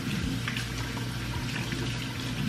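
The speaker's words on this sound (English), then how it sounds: "Wash my hands, because yes, wash your hands." Tap water runs steadily from a faucet while hands are washed, a continuous close splashing rush with no break throughout.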